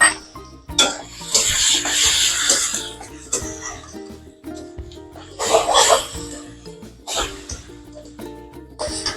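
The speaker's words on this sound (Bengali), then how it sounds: "আমি দিয়ে দিচ্ছি আদা রসুন বাটাটা" A spoon scrapes and stirs in a pan as ginger garlic paste goes into fried onions, with bursts of sizzling and clinking between pauses and a cough in the room.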